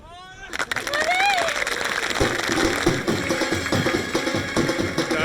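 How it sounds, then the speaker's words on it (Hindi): A crowd breaks into sustained applause, a dense rush of clapping that starts suddenly and keeps going, with voices speaking over it. "तालियां सुनी?"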